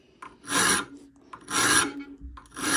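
Hand file rasping across metal in three long strokes separated by short pauses, close and fairly loud, each stroke a broad gritty hiss.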